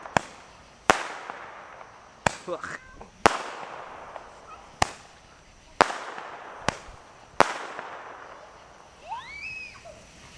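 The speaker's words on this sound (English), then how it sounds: "Oh, more fireworks." Fireworks burst in a series of about seven sharp, loud bangs spaced irregularly, each trailing off in a rumbling echo, with a brief grunt and some quiet background sounds between blasts.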